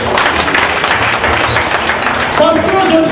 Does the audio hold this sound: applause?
yes